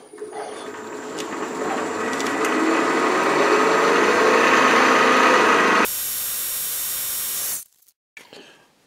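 A milling machine cutts a shallow 5/32 slot about half a millimeter deep across the middle of a small metal part for a compact rotary broach, a steady whirring cut building over several seconds before the spindle noise drops and stops.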